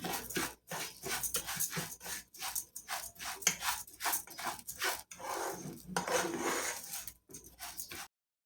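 Repeated scraping and stirring as rice toasts in a pot, dry grains rasping against metal in irregular strokes, close up, with brief pauses.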